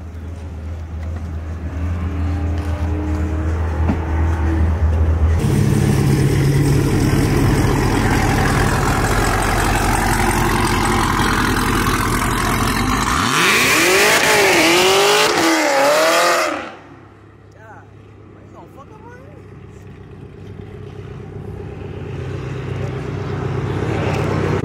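A Camaro ZL1 and a 600 HP Mitsubishi Evo X rev hard and loud up close, sustained engine roar rising and falling through several throttle blips before cutting back to a lower idle.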